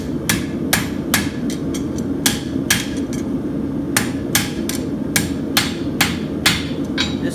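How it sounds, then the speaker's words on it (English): A steel horseshoe branch is hammered over the round horn of an anvil at a farrier's forge in Arizona, with about a dozen sharp, ringing metallic strikes in an irregular rhythm over a steady low background hum. "So I'll bring it over the horn of the anvil."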